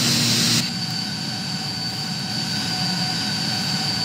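Boeing 737-800 jet engines in Ryanair livery idling and taxiing in a flight simulator game, a steady loud whine with a high tonal hum over low rumble, slightly shifting after a brief louder start, no talking.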